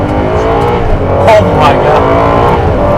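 A Ferrari engine revs hard to about 7,000 RPM from inside the cabin, a sustained loud drone with rising surges around the middle, while people talk excitedly over it.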